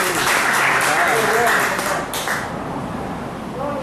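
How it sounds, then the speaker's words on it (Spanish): Church congregation applauding for Jesus during a sermon, a broad roar of clapping mixed with cheering voices, loud and sustained before easing slightly. "¿Cuántos pueden dar un aplauso a Jesús?"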